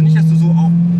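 A lowered old car driven at steady speed, its engine holding a loud constant drone close by while faint voices talk over it.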